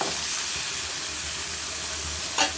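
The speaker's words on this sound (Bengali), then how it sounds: "এখানে আমি একটি ব্রেস্ট পিস নিয়েছি, সামান্য তেলের মধ্যে ভেজে নেব" Chicken breast frying in a little oil, a steady close sizzle and hiss throughout with a brief louder spatter near the end.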